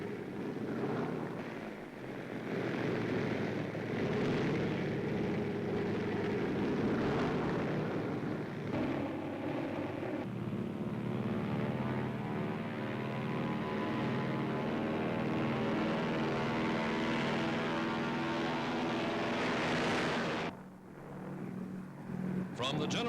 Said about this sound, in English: one by one, the huge motors roar.